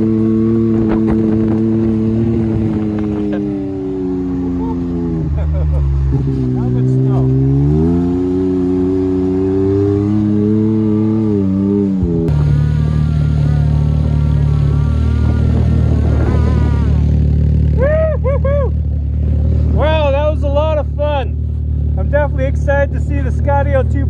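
A 200 hp snowmobile engine revs in deep powder, loud droning whine that rises and falls, then climbs into higher wavering revs, close and sustained, with people talking over it.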